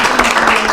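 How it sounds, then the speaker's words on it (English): A round of applause at a school board meeting, a brief, loud wash of many hands clapping together in a room. "I think a round of applause for them."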